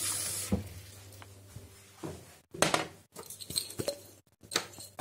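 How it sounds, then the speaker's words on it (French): A household tap in Île-de-France runs hard water in a few short, quiet bursts, splashing and trickling with brief pauses between, and no voices. "de l'eau du robinet"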